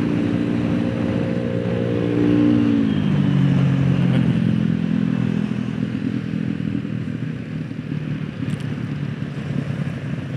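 A motorcycle rides through congested traffic on Margonda road in Depok, its engine droning steadily and close with a falling pitch sweep early on, over constant wind and road rumble.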